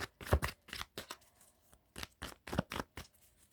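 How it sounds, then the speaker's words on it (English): Quick riffling bursts of tarot cards being shuffled, several short crisp flurries in an uneven rhythm, close and fairly quiet. "Shuffle one more time."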